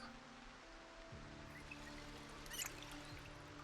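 Water is poured into a bottle in the video game Build 42, a faint steady trickle with a soft tonal hum underneath, low and quiet.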